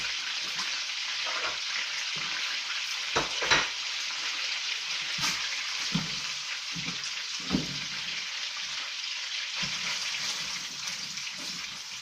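Bacon frying in a pan in a home kitchen, a loud, continuous crackling sizzle close by, broken by a few knocks and clatters of utensils, with no voices.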